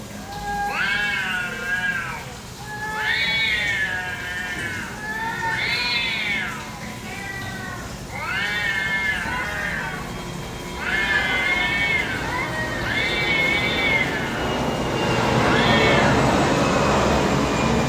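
A cat meows repeatedly, about seven drawn-out, rising-and-falling calls in steady succession, loud and close over a constant low background rumble.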